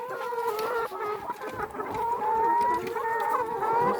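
Laying hens in a coop with a nesting box, clucking steadily and close up, with overlapping murmuring calls throughout and no talking.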